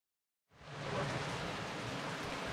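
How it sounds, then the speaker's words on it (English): Steady rain falls during a mountain hike near an alpine hut, a dense continuous hiss starting abruptly after half a second of silence and holding at an even level with no voices. "it is raining"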